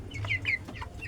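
A 25-day-old broiler chicken being weighed lets out two or three short, close clucks in quick succession, with no talking.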